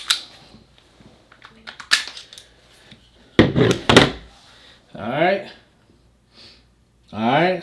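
Taurus G3 pistol being field-stripped like a Glock, with a cluster of close metallic clicks and sliding clacks from its parts, several sharp snaps in the middle, between stretches of talking.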